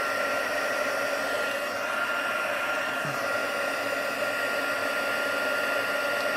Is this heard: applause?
no